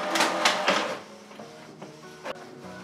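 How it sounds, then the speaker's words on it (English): A Canon PIXMA G-series inkjet printer runs its print head alignment pattern, giving a few quick mechanical clacks and whirs followed by quieter intermittent clicks and a sharp knock, close up with no talking. "I recommend to perform auto print head alignment, which will take about 2 minutes."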